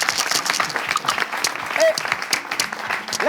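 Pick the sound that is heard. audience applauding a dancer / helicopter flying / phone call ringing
audience applauding a dancer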